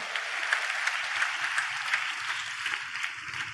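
Congregation clapping in a church, a steady dense wash of many hands that stays even and fairly loud throughout, with no voices over it.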